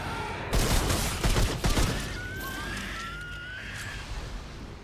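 Dense fusillade of gunfire from the video game Remnant 2, a loud rapid burst of overlapping shots in the first two seconds, then a fading rumble with a faint whine.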